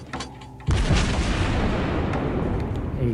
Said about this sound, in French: Allez, je tire à la volée, là.